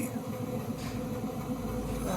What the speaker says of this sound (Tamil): இப்போ ட்ரெயின் வந்து நெருங்கிக்கிட்டு இருக்கு.